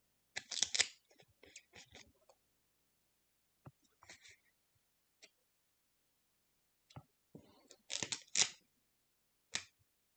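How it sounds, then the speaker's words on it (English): Scissors snip through photos for a scrapbook, with quick clusters of close, crisp cuts separated by quiet pauses. "don't rush when you're trying to cut things like photos because you just ultimately regret it"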